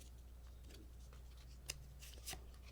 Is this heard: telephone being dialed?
no